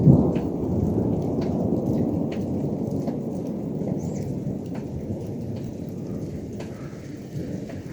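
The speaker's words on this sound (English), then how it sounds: "A little bit of lightning, a little bit of thunder." Thunder rumbles alongside steady rain, a continuous low roll with some sharper peaks at the start, and the downpour holds throughout at a fairly loud level.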